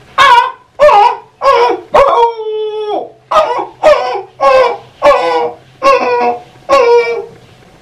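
A man imitates a frightened puppy with about ten loud, close whimpers and yelps in a quick rhythm, including one longer drawn-out whine partway through.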